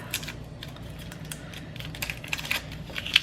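Bouillon cubes being unwrapped by hand make quiet, irregular crinkles and small clicking rustles close by, growing busier toward the end, with no speech.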